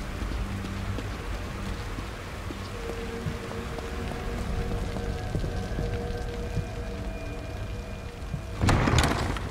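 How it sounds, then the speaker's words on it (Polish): Rain falls in the survival horror game The Evil Within outside a psychiatric hospital, a steady, soft patter with faint rumbling underneath and a brief louder burst near the end, with no voices. "Rain is gonna wash away any evidence"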